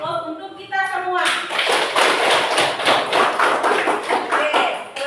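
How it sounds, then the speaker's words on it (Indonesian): A classroom of children bursts into applause after a brief voice, loud scattered clapping close by that holds for about four seconds before tapering off. "Kita beri aplaus untuk kita semua."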